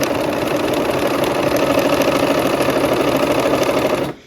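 Sewing machine stitching with blue thread, running at a steady fast buzzing rattle close by, then stopping abruptly at the end.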